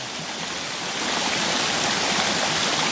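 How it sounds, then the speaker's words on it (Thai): Water from a waterfall pours into a small channel, making a steady broadband rush that swells slightly louder after the first second and continues unbroken, with no voices. "น้ำตกครับน้ำตก"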